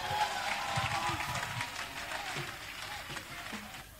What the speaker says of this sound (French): On peut l'acclamer le dirigeant